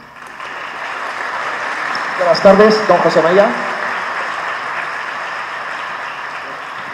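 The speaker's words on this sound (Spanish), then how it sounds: "Le damos un aplauso." An audience at a talk in Santiago de Compostela applauds to welcome a guest, a steady broadband clatter of clapping running through the whole stretch while someone briefly speaks a greeting over it midway.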